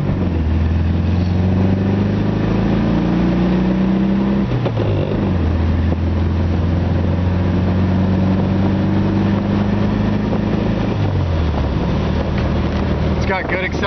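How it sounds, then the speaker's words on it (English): A 1973 VW Beetle Convertible drives and accelerates through the gears, a buzzing engine note rising steadily, dropping at each shift and climbing again, with wind noise throughout. "This little car drives out awesome."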